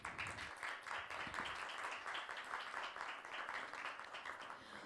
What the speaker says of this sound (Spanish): ella va a recibir un fuerte aplauso, por favor, para Carla y su proyecto.